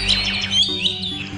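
Birds in a dense forest in an animated scene twitter in quick, overlapping high chirps and tweets, a brief lively burst with no voices.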